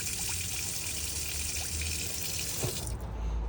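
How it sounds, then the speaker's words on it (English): Water running from a tap in a Nu Venture Elise campervan, drawn through by the onboard water pump, a steady close splashing flow with faint trickles, no talk. "when I turn the water pump switch on, like it is now, I should be able to draw the water through"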